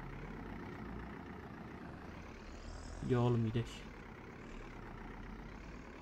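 A Massey Ferguson tractor engine runs at steady idle during hay baling season, a low continuous rumble throughout, with someone briefly speaking over it partway through.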